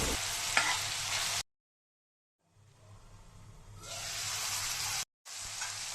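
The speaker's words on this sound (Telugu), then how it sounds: "మన ఆనియన్స్ బాగా వేగిన తర్వాత కట్ చేసుకున్న 2 టమాటాలు వేసుకొని బాగా మగ్గించుకోవాలి." Chopped onions and tomatoes sizzle and hiss in a hot pan while a spoon stirs them, cooking the base for a spicy egg bhurji. The frying drops out into a brief silence, then returns loudly and steadily.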